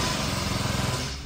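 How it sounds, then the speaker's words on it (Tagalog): Four-stroke backpack grass cutter engine running steadily at high revs, a loud, close, continuous buzzing drone with even pulsing and no talk over it. "Backpack grass cutter."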